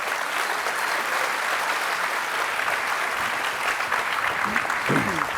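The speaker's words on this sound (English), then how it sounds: "can we get the last round of applause for our panelists?" An audience at a Bitcoin conference stage claps steadily for the panelists, with dense sustained applause throughout and a few faint voices near the end.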